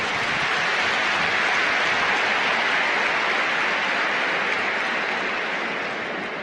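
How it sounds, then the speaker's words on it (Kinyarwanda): Sustained dense applause from a large crowd at a Rwandan presidential inauguration, steady and even throughout, tapering slightly at the close. "Twongere tubashimire cyane tubaha amashyi kwayo."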